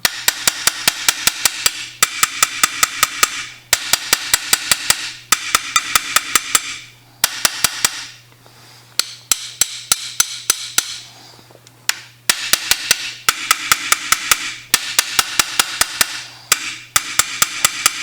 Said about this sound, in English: from time to time we're going to go back here and we're going to tap our mandrel in a little bit more